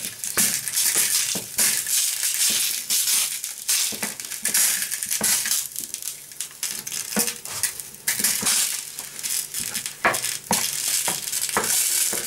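Sausage meat breaks up and fries in a pan for a sausage pie, giving a steady, loud sizzle with repeated scraping and crunching strokes of a utensil throughout, no talking.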